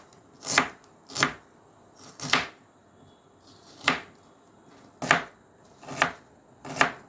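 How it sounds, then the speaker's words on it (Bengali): A knife chops onions finely on a board, seven crisp separate strikes spaced unevenly about a second apart, close and clear with quiet pauses between. "তো এইভাবে ছোট ছোট কুচি কুচি করে পেঁয়াজগুলোকে সব কেটে নেব।"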